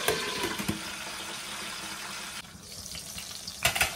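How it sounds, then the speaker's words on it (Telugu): Steady close-up sizzling of stuffed brinjals frying in a pan, a continuous crackling hiss with a few brief stirring clatters. "ఇలా కాసేపు వేగనివ్వాలి."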